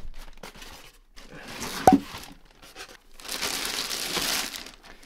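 Packaging of The Tower 300 micro ATX PC case crinkling and tearing during unboxing, bursts of close, loud plastic rustling and crackling with a sharp rip near the middle, no talking.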